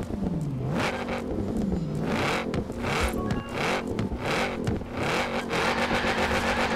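Ford Shelby 1000 engine in the racing game Forza Horizon 4, revving hard with repeated rising and falling throttle sweeps and rapid gear changes, loud and continuous without speech.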